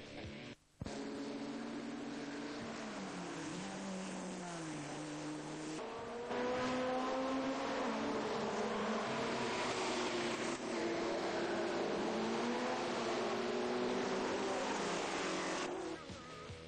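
Historic racing cars at Brands Hatch in 1986 launch from the start of a race in pouring rain, a loud dense roar of many engines rising in pitch as they accelerate away through spray.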